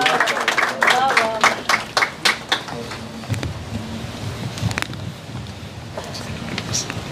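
Audience claps for a poet at a mushaira poetry gathering, a short burst of hand claps early on that fades into a quieter room with stray scattered claps and faint murmuring.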